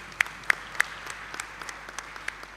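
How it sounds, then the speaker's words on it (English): Scattered applause for a chapter member at an anniversary celebration and general meeting, with a few sharp, close claps standing out over a thin, quieter patter of clapping in the room. "A round of applause for chapter member"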